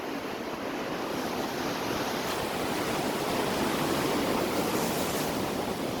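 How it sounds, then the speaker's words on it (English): Ocean waves roll onto the shore in a continuous, loud, broadband wash of surf, steady throughout with no speech over it. "And who could stop those waves?"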